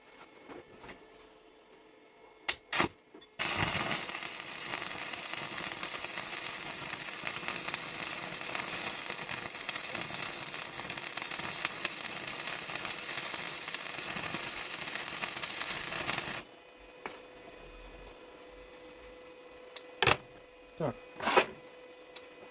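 PATON StandardTIG-200 TIG welder running a test bead at about 90 amps, a steady crackling hiss lasting around thirteen seconds, bracketed by a few sharp clicks and knocks before and after.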